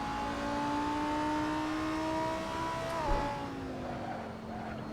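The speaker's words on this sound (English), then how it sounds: "So there's a lot of noise in cars." Race car engine in a Shitbox Cup racing game holds a steady high whine, shifting pitch with a gear change around three seconds, loud and continuous with no talk over it.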